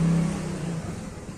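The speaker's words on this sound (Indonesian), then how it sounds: "Mobil muter lewat luar" A car engine hums and briefly revs as the vehicle turns around and drives off outside on a street, fairly quiet and fading slightly over a short moment.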